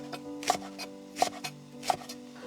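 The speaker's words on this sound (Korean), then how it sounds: "약간 도톰하게 썰어주시면 돼요." Knife chopping green onion diagonally into thick slices on a cutting board, three sharp, distinct chops spaced about a second apart over a faint steady hum.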